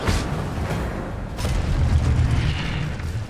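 A fire spell going off in Hogwarts Legacy, a deep booming burst at the start followed by a second blast and a rumbling roar, loud over game background sound.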